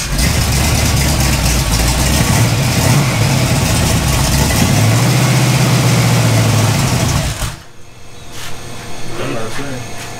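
A carbureted engine runs on a test stand, loud and close, with a steady idle that rises in pitch as the throttle opens. It then drops back briefly before settling into a rough running note. Voices are heard over it.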